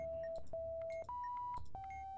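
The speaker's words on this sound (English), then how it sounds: "Hang on, our alarm clock went off." Electronic alarm clock in the video game Keep Talking and Nobody Explodes beeping in a steady series of sustained tones, each a little under half a second long. The beeps shift in pitch partway through and continue over low background hum.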